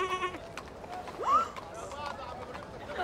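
A single short sheep bleat rises briefly amid an animated cartoon fairytale scene, heard under and between character voices talking.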